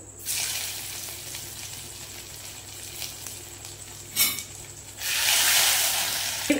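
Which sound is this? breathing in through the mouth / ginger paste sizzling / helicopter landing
ginger paste sizzling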